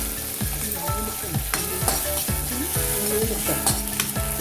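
Chopped green chillies and a dried red chilli frying in a tempering for thotakura pappu, a steady close sizzle with rhythmic metallic stirring scrapes and clinks against the pan.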